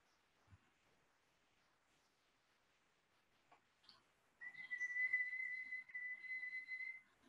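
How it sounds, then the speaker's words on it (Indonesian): A single sustained whistle, steady and fairly clear, comes in after a few quiet seconds and holds for nearly three seconds. "Coba saudara bersiul."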